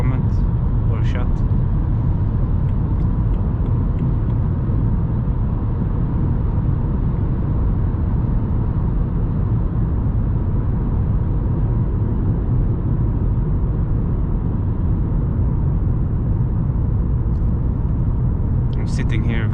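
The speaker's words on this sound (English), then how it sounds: "I am driving in the Southern Link tunnel" Steady, enclosed road rumble and tire noise from a car driving south through the Southern Link tunnel, a continuous low drone throughout with a couple of faint brief clicks.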